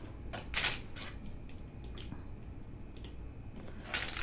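Scissors snip the printed numbering off a paper cross-stitch chart for a Christmas cookies chalkboard design: a few short, crisp cuts spaced irregularly, close and fairly quiet, with no talking.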